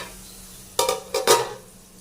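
Brinjal and onion frying in oil, stirred in two or three brief scraping bursts over a steady low sizzle, close and fairly loud with no talk.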